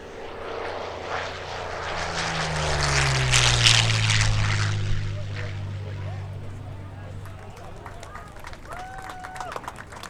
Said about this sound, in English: this is the last pass right here from the left. Tom Richard in the P-40 Warhawk.